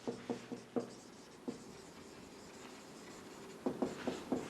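Pen writing on paper while notes are taken in a chemistry lesson: a quick cluster of short scratching strokes, a single stroke in the middle, then another cluster, close and soft, with no talking.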